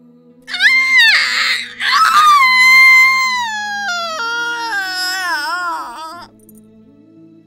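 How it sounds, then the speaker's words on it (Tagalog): Young female aswang screaming in pain after her whole arm is cut off: loud, drawn-out wailing shrieks, one brief cry then a long sustained scream that wavers and falls away. "Sigaw ng dalagang aswang dahil sa kirot na nararamdaman niya nang putulin ko ang buong braso niya sa kanyang katawan"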